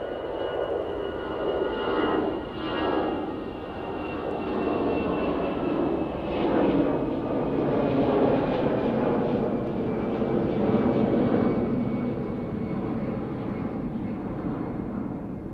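A jet airliner roars steadily at Manchester Airport on an evening of difficult take-offs and landings, its loud continuous engine rumble and whine carrying throughout with slight swells and no voices heard.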